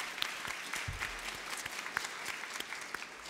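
A crowd applauding steadily, dense overlapping claps filling the whole stretch at moderate volume, with no talking.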